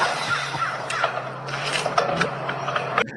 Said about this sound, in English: you heard a crow laughing in the background